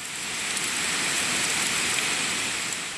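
Heavy rain pours down in a dense, steady hiss that stays constant throughout, with no voices, during a low-pressure storm in coastal Bangladesh.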